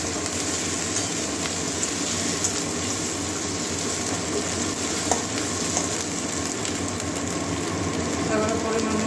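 Chopped tomato added to a pan with ginger and garlic for a gourd-leaf fritter curry sizzles in a dense, unbroken wash of noise at close range.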